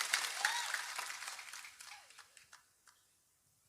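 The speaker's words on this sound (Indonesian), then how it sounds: "Tepuk tangan untuk PSHT." A crowd at a public religious gathering for PSHT claps in a brief burst of applause that thins into scattered sharp claps and dies away, with a faint voice briefly heard.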